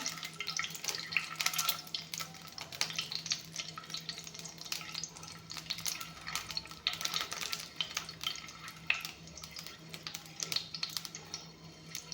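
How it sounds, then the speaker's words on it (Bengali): Eggs frying in a pan, a soft, continuous crackling sizzle with scattered pops and light stirring, heard close but quietly, without talk. "এয়া কণী ভজা হৈ গ'ল"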